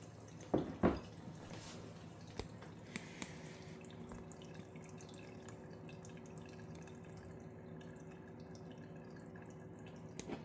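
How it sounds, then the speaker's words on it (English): Water trickling and dripping through a sprouting tray holding organic broccoli seeds, a couple of louder splashes at first, then a faint, steady trickle with scattered soft drips, close and quiet. "I'm going to pour a cup of water over the top."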